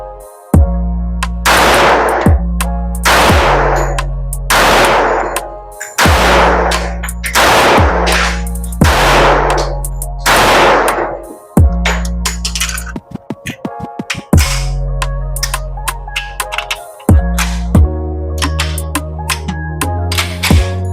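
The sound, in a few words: Custom LW 1911 .45 ACP pistol firing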